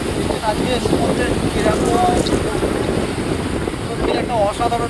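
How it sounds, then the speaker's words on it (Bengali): High, powerful surf crashes and churns at Puri's Swargadwar beach after heavy rain, a loud continuous roar close by with scattered high chirps and faint voices mixed in. "তো এতটা হাইট, এতটা ফ্লো ঢেউ আমি আগে পুরীতে কোনোদিন দেখিনি।"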